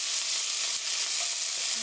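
Pork and kimchi stir-frying in a pan make a loud, even sizzle that hisses without a break from start to finish.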